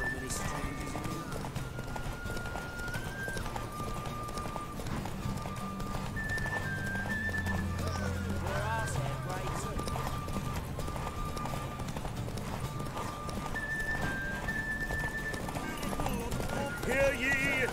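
Galloping horse hooves in a derby race in The Witcher 3, a steady clip-clop run under game music and a loud announcer voice.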